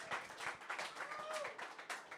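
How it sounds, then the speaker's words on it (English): Live show audience clapping, a short burst of scattered hand claps from a modest crowd, fairly faint with a little talk around it. "don't forget the clapping"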